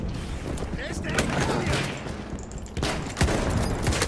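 Heavy battlefield gunfire in the World War I shooter Battlefield 1, overlapping automatic bursts and sharp individual shots with a few booming impacts, loud and continuous throughout.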